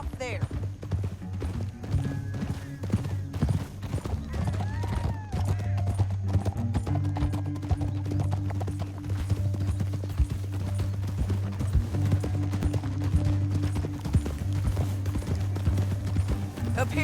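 Horses gallop in the Red Dead Redemption video game, a steady rapid clip-clop of hooves running under a low rumbling music bed, with characters talking over them.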